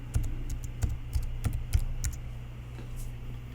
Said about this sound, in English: So I'm going to type in morphine.